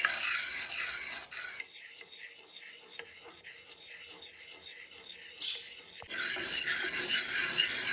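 Oil and wax mixture for oregano ointment stirred in a pot on the stove, soft scraping and rubbing strokes repeating steadily, fairly quiet with background hiss at the start and end.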